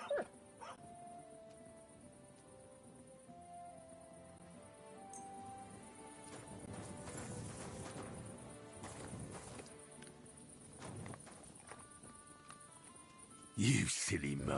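A dog in the video game Kingdom Come 2 barks, yips and whimpers in short bursts over game music and ambience, with a louder burst near the end.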